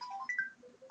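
A mobile phone ringtone plays: short melodic electronic tones stepping up and down over about a second, fairly quiet, with no talking over it.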